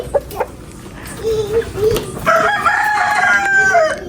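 A rooster crows near and loud in a rural Filipino yard, a drawn-out call following a short earlier cluck, with people talking around it.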